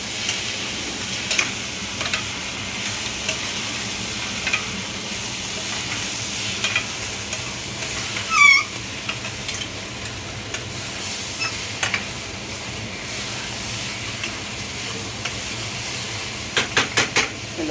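Dal khichdi being stirred and mixed in a pan, with soft scraping and a faint sizzle running steadily throughout, a few light ticking clinks near the end, and no talking.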